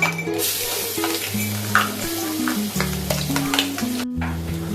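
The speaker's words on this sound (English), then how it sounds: "stir fry the garlic with the anchovies" Garlic and anchovies sizzle in hot oil while being stir-fried for fried bihun, with a continuous crackling hiss and repeated scraping strokes of a utensil against the pan, close and clear, with no talk.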